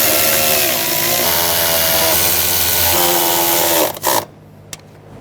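A power tool runs steadily while tightening the nuts on the fuel pump cover of a 2006-2010 BMW 550i with the 4.8L V8, its loud buzzing drone cutting off abruptly near the end, then a couple of brief clicks.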